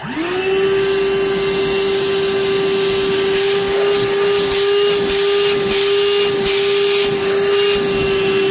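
A repaired power tool switched on and running, a loud, steady motor whine with a constant hum that holds without pause for the whole stretch.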